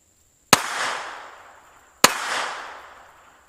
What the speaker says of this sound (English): Alright, so got 2 rounds off.